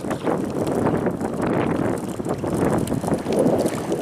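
Wind gusts over a drifting fishing boat up north, producing a steady, rough, low rumbling buffet close to the microphone for the whole stretch, with no clear voices.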